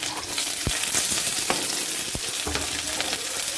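Garlic and green chilli frying in hot oil with five-spice already toasted, a steady close sizzle broken by sharp crackles and pops, no voices present.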